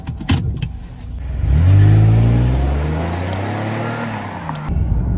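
A 2001 Jaguar X-Type 3.0 V6 all-wheel drive accelerates from near the listener, its engine note climbing loudly through a rising rev sweep and then holding a steady drive, after a few clunks at the start.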